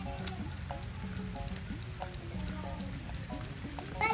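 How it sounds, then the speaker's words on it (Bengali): Rain patters faintly and steadily outdoors during a gaye holud wedding celebration, a soft continuous wash with some faint tonal background sounds mixed in. "এমনিতেই বৃষ্টি হচ্ছে"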